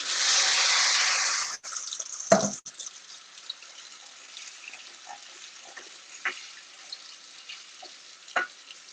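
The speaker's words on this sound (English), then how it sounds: "Add some water to that." Water poured from a tap into a pan with flour browning in it, a short gushing run followed by a few sizzles and drips.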